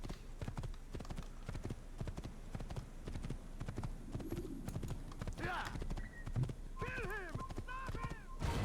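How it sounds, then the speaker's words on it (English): A horse gallops in Assassin's Creed, rapid rhythmic hoofbeats clip-clopping throughout, joined by several whinnies and neighs in the later seconds, with game sounds in the background. "Galloping over them with a horse is one way to alert people to your presence."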